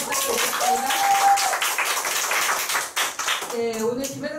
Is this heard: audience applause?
yes